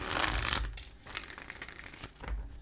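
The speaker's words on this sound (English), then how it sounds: "let me shuffle because that was sloppy" Tarot cards being shuffled by hand, a soft papery riffling and crinkling in quiet bursts at the start and end, heard alone without talk.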